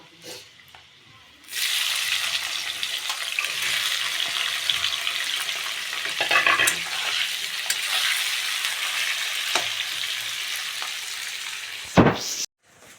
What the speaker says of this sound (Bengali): ভাজা ভাজা হয়ে গেছে এবার পেঁয়াজটা দিয়ে দেবো